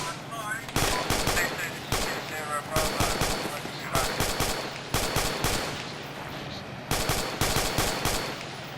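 Light machine gun suppressive fire in a military video game, loud close bursts of rapid automatic shots repeating in several strings, with voices talking over parts of it.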